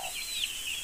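Free-range chickens cluck faintly in a farmyard, a soft steady chorus with one brief louder call partway through.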